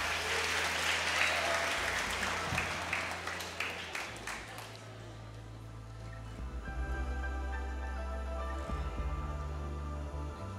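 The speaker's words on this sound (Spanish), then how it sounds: "Otro fuerte aplauso." A church congregation applauds steadily for several seconds during a weekend service, the clapping fading as low hum and music-like tones continue underneath.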